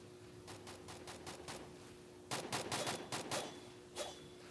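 Rapid gunfire bursts ring out in a shooting video game training mode: a string of quick shots, then a louder, denser volley and a final single crack, heard at moderate level.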